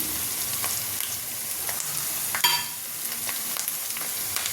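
Curry leaves and coriander hit hot oil for egg fried rice, a steady close sizzle with a sharper crackling burst partway through, stirring underneath and no voices.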